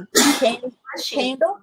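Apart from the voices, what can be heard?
sneeze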